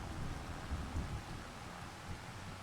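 Rain and low rumbling thunder in the farming video game Farming Simulator 25, a faint, steady wash of rainfall with soft thunder rolls underneath.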